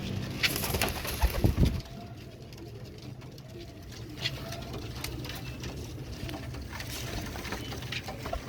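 Royal Teddy pigeons coo softly and repeatedly in a loft, with low throaty calls over faint rustling and wing flutters, plus a brief louder scuffle near the start.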